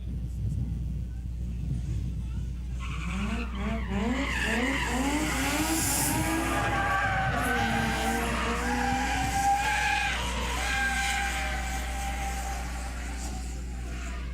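Drift cars skid through a smoke-show event, a turbocharged 1UZ car and a Subaru with an H6 engine swap, with rising and falling tire squeal and engine roar sustained over a steady low rumble while a commentator talks over it.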